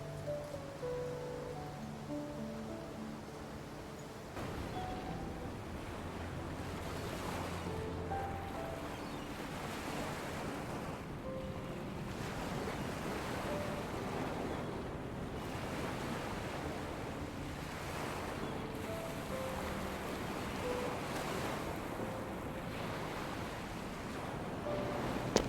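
Ocean waves by the sea in the video game Love and Deepspace, a soft, continuous surf wash with wind that goes on throughout, quiet and under gentle musical tones.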